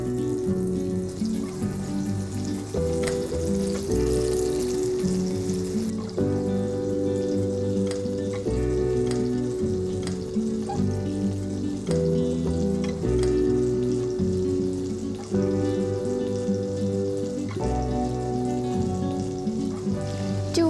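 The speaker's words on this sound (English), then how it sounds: "I'm waiting for the rest of the butter to just get melted so that I can put my steak." Butter melts and sizzles in a hot pan with a steady, crackling fry throughout, heard close and fairly loud with musical tones running underneath, while salt is sprinkled over a steak waiting to go in.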